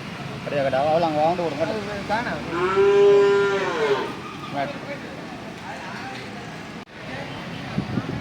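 A cow moos loudly and long, a deep drawn-out bellow, preceded by shorter wavering calls; a sharp knock comes later amid background murmur, at a Pattippongal cattle festival in Mallakam, Jaffna.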